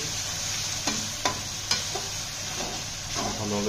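Ginger, garlic and green chili paste sizzles steadily in hot oil for a crab curry, with a few sharp utensil scrapes and taps as it is stirred; close and fairly loud, no talking.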